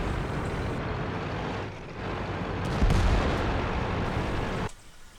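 Tank cannon fire and explosions from the World of Tanks video game, a loud dense barrage of booming shots with a heavier blast near the middle, cutting off abruptly near the end.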